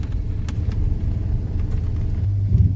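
A 1991 Ford F-150 pickup with freshly replaced front brakes is driven on the road, its steady engine and road rumble heard from inside the cab, low and continuous with no talking.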